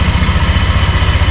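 A 2026 Honda Click 125 V4 scooter idles close by, a steady low pulsing engine putter with even rhythm and no voices.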